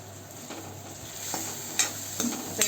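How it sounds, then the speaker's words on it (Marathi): Capsicum with coriander powder, Kashmiri red chilli, chilli flakes and turmeric is stirred into tomatoes in a pan, making soft scraping strokes and a few sharper clicks of the spoon over a low sizzle, close and without voices. "पूर्ण सगळं मिक्स करून घेऊया"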